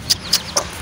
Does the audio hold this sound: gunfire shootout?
no